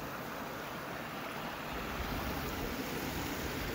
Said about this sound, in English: the one and only bridge crossing on this trail, and the final time crossing this creek